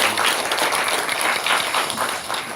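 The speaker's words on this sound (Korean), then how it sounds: "찬양 받으신 주님께 감사 영광의 박수 올려드리겠습니다" A church congregation at a Sunday worship service claps together in a dense, steady round of applause, fairly loud and without speech.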